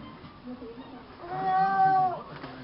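A seven-year-old child imitates a cat with one drawn-out, rising-and-falling vocal meow, close and fairly loud, after a few soft background sounds.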